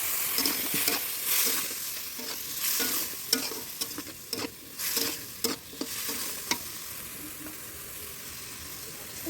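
Yardlong beans fry in a pan after a splash of water, giving a steady sizzle broken by repeated scraping, clattering stirs up close, with no talking.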